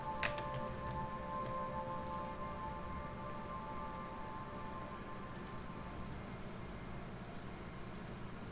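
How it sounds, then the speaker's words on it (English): Continuous rainfall patters evenly on surfaces, with a brief faint tonal ring near the start, then a steady hiss of drops with no voices. "The sound of that rain, though, it's gorgeous."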